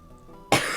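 A single loud, harsh cough breaks abruptly out of near silence, close to the microphone, from a streamer.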